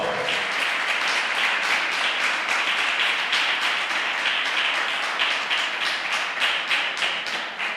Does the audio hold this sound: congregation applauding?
yes